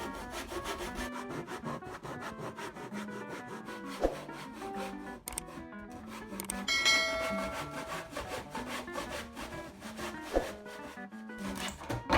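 Steady back-and-forth rasping of a hand saw cutting a clamped-down piece of wood, repeated rhythmic strokes close by with a few knocks, no talking.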